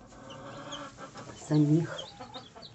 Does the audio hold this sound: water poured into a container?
no